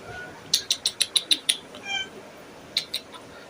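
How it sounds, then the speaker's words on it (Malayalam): A cat meows in a quick series of about seven short, high cries, followed by a softer drawn-out call and two more brief meows near the end, fairly close with no talk. "നല്ല സ്നേഹമുള്ള പൂച്ചയാണ്."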